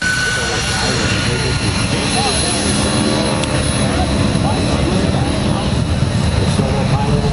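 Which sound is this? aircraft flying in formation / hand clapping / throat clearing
aircraft flying in formation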